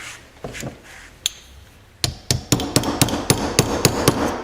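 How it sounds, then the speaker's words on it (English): Sharp metallic hammer strikes on a pin punch while refurbishing a Ludwig Speed King drum pedal, a few spaced taps at first, then a steady run of about ten evenly paced blows, close and loud. "And then I can just use the punch I have here to get the thing going."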